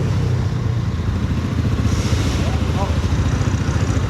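A new 125 cc motorcycle engine runs close by with a steady, rumbling hum and light clatter, while faint voices are heard beneath it.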